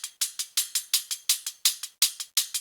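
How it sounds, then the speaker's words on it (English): A bright, noisy hi-hat built from laptop microphone noise and sharpened with a transient shaper plays a steady pattern of about fourteen crisp, hissy hits. Each hit has a punchy attack and a short decay, with nothing else underneath. "if we throw on a transient shaper to our entire hat sound, increase that attack a little bit"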